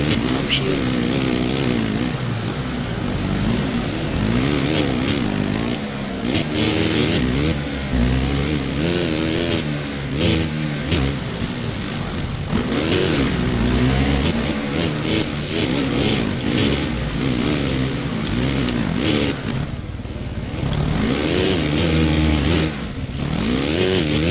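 Motocross bike engines in the MXGP video game snarl and rev steadily, their pitch rising and falling through gear changes in a loud, unbroken drone with layered engine tones.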